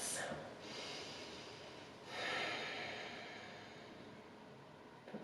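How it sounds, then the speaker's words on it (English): A person breathes deeply during a yoga pose, two long slow breaths through the nose, soft and close, with a faint hiss of room noise between them. "we'll take 5 big breaths"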